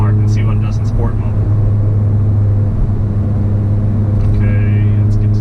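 Car with a tuned DSG gearbox pulling in sport mode while holding a gear: a steady, loud droning engine hum with strong low tones inside the cabin, and someone talking over it.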